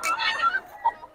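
A Boston Roundhead gamefowl rooster at a market gives a short, close cluck lasting about a second.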